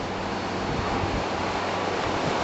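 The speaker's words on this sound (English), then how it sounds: "There's the wind for you. Hear that?" Storm wind roars continuously outdoors, a dense, steady broadband rush with buffeting against the microphone, loud and unbroken with no voices.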